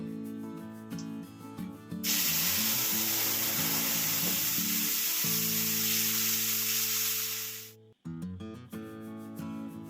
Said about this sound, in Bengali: ওই তেলের মধ্যে একটা শুকনো লঙ্কা ফোড়ন দিয়ে দিলাম, আর দিয়ে দেবো একটু পাঁচফোড়ন।